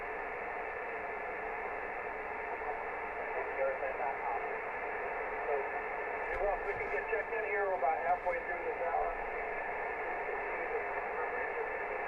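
Amateur radio net on the 14.320 MHz band, heard as a voice faintly under a steady hiss of static and white noise, with brief warbling interference around the middle.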